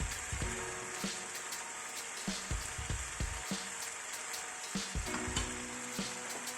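Marinated salmon sizzles and crackles on a grill, with a steady hiss and scattered pops and spatters close by.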